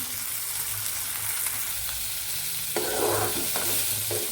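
Onions and curry leaves sauté in hot oil for a Dindigul-style bitter gourd curry, a soft continuous sizzle with occasional stirring scrapes near the end, no voices over it.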